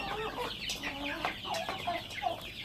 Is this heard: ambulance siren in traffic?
no